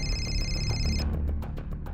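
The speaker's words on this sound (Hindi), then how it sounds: "सर, कंट्रोल रूम से फोन था।" A telephone rings in a police setting with a call from the control room: a bright, electronic trill that sounds once, then cuts off after about a second over a low background hum.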